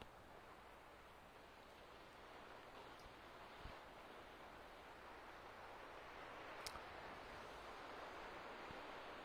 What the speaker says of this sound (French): si vous aimez le bruit des vagues